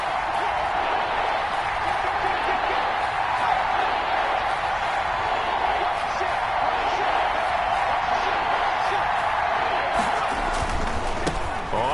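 Football stadium crowd at a Bengals game: a steady, dense roar of cheering fans that holds at an even level throughout, with some louder swelling noise near the end.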